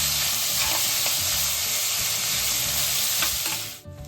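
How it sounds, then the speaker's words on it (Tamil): Onions sautéing in a pan for adai dosa, a loud, even, close sizzle with occasional stirring scrapes that cuts out abruptly just before the end. "இப்போ வந்து வெங்காயம் வதங்கிடுச்சு"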